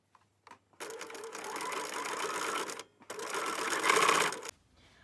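A sewing machine stitches along the folded edge of a Christmas stocking in two close, steady bursts of rapid mechanical whirring, split by a brief pause, with no talking.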